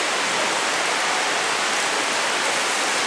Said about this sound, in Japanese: この糸みたいな雨が落っとるわけ。